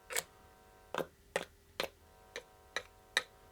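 Guitar pickups on a homemade guitar/bass hybrid struck by hand and heard through an amplifier: seven sharp, ringing taps spaced roughly half a second apart, each a bright click with a short hum-laden tail.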